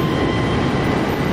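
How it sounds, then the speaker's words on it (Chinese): Fighter jet taking off in a flight simulator game, a loud, dense, continuous engine roar filling the whole moment. "刚刚那是战斗机啊，都是玩家"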